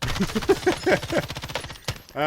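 Rapid automatic gunfire from a Call of Duty Warzone battle royale match crackles in a dense burst under overlapping voices, ending with a short sharp shot and a brief tonal tail.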